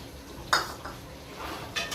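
A spoon scrapes and clinks against a pot while milk is stirred into chicken white karahi, two or three brief metallic knocks standing out over a low background hiss.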